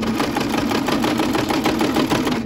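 Domestic sewing machine stitching a lined fleece beanie, a steady, close, rapid mechanical whir with an even rhythmic chatter running continuously without pause or voices.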